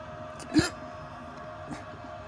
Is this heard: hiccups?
yes